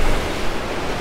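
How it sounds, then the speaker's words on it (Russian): Stormy sea surf at Fiolent beach near Sevastopol, a loud, dense roar of crashing waves mixed with wind noise, no talk. "Вы сами видели, какие были волны."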